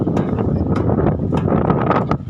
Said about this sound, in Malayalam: ഇപ്പൊ നല്ല കാറ്റാ, അടിപൊളി കാറ്റാ.